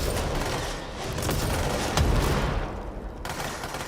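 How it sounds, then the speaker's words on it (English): A rocket launcher fires during a heavy firefight in the video game Control, with dense blasting and crackling effects filling the space and one stronger boom near the middle. "That's a goddamn rocket launcher."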